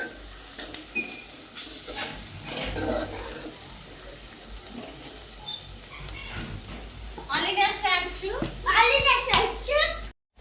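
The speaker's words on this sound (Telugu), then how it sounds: "ఇది ఆయిల్లో కొంచెం వేగనివ్వాలండి ఎందుకంటే కొంచెం పచ్చివాసన పోయేంత వరకు వేగనివ్వాలి" Garlic fries in oil with a continuous crackling sizzle and occasional stirring scrapes, while children's voices chatter over it in the latter part.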